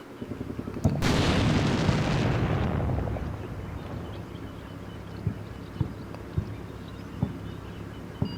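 Artillery shells fire and explode in the Combat Mission Black Sea war game: a loud sharp blast followed by a long rumbling roar that fades over a few seconds, then scattered distant thuds and pops.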